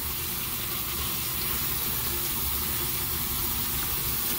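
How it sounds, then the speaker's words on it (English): Running water pours steadily over a Manscaped loofah alternative as it is rinsed, making a continuous even hiss and splash from start to finish with no break and no voices. "we're gonna make sure we rinse it off"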